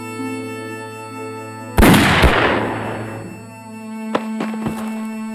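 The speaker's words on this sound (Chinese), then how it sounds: "准备射击" A loud burst of gunfire from a war drama trailer set in the anti-Japanese resistance erupts abruptly, then fades under a sustained orchestral score, followed by a few sharper distant shots.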